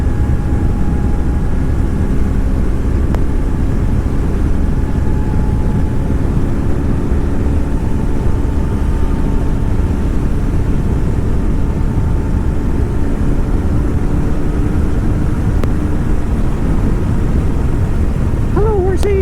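Wind blasts steadily against a rider's helmet on a 2010 BMW F800GS motorcycle behind its windscreen, a loud, continuous roar blended with an engine hum, with speech riding on top.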